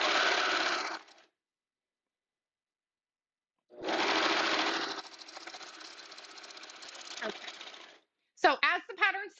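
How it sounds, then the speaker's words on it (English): A home sewing machine stitches bodysuit pieces together in two steady whirring runs, the first short and the second longer, separated by silence, with a brief clatter at the end. "as the pattern states, you will sew them together on both ends"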